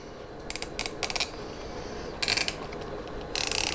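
Ratcheting clicks from an Invicta Darth Vader watch's unidirectional bezel being turned, in short bursts of crisp rapid clicks separated by pauses.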